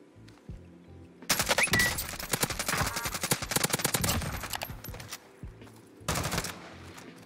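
Heavy automatic gunfire in a Warzone match, long rattling bursts from about one second to five seconds, then a shorter burst near the end, loud and close with no voices.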